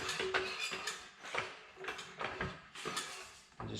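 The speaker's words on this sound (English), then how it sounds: "So we're going to put the jack underneath here as close as we can to the rotor." A car jack is pumped to raise the independent rear suspension near the rotor, giving a series of rhythmic metallic clicks and ratcheting clanks, close and fairly quiet.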